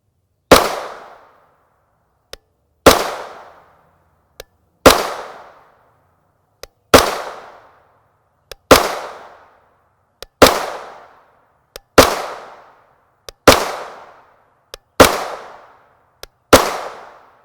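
A CZ Scorpion Evo 3 S1 SBR with a 7.72-inch barrel firing 9mm 115-grain FMJ steel-cased rounds: eight loud, sharp single gunshots spaced about two seconds apart, each with a short decaying echo, with faint clicks between.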